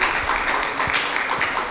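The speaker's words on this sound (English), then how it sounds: "we have a round of applause for all the faculty" Dense applause from a conference audience fills the space, a steady wash of many hands clapping at once for the faculty after an orthopaedic session.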